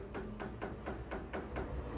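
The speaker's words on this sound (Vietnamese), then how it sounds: "chúng ta gõ vào các cái vị trí để các cái vật cản ở trong cái đường ống ấy có thể trôi đi" Repeated hammer-like knocks on a blocked drain pipe in an apartment building, struck to loosen a clog inside; about seven evenly spaced taps, moderately loud against a steady low background hum, no talking.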